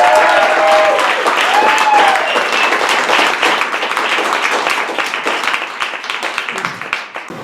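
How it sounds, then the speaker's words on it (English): Big round of applause from a comedy audience greeting a stand-up comedian, close, dense clapping with a few whoops early on, gradually thinning out toward the end. "Let's give a big round of applause"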